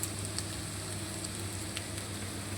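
Onions frying with garlic and ginger paste in a pan for chicken curry, heard as a steady, even sizzle with faint crackles, close and continuous with no talking.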